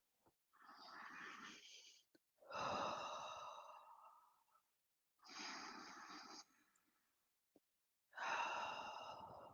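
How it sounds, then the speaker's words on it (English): Slow, deep breaths are demonstrated up close: four long, loud airy inhales and exhales with short pauses between them, and no talking. "I find myself breathing very deeply"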